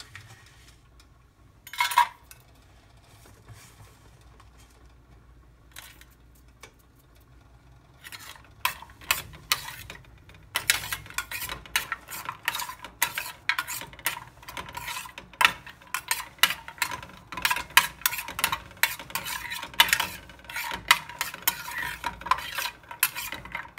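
Steady clatter of a utensil stirring in a pan, quick scraping taps over a faint sizzle, as cashews are tossed and roasted for ada pradhaman payasam; quiet at first, then busy.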